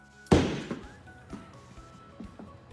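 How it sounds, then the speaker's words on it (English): A golf ball struck hard off a hitting mat makes one sharp, loud crack, followed by faint scattered thumps and quiet background noise. "That was just hammered off the mat right there."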